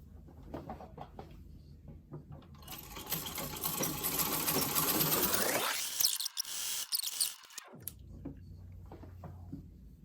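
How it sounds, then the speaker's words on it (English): A sewing machine stitches a seam on a newborn pillow prop, running in a loud continuous mechanical whir that speeds up, briefly stops and restarts, then winds down, heard close with no talking. "put my foot down, and sew to the next corner."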